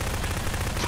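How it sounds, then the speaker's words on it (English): Rapid automatic gunfire in a Prop Hunt video game, a dense, loud, continuous burst of shots with no voices. "I'm shooting him."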